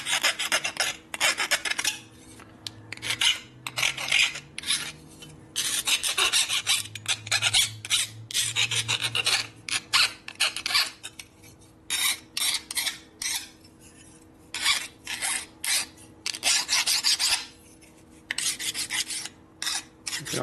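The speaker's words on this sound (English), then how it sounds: "files work pretty good for this kind of stuff" Hand file rasping on a metal part of a Harley shovelhead stroker big-bore motor: repeated loud, close scraping strokes in steady bursts with brief pauses between, no talking.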